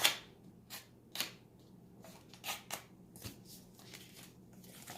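Origami paper being creased and folded by hand, a series of short crisp rustles and snaps spaced irregularly, fairly close and quiet, with no talking.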